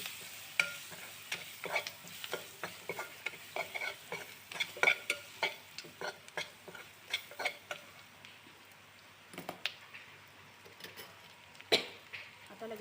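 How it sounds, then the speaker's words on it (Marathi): A spoon scrapes and taps steadily in a pan while a turmeric and red chili powder mixture is stirred, giving repeated soft clinks over a faint sizzle. "आता आपल्याला चांगले मिक्स करून घ्यायचं आहे"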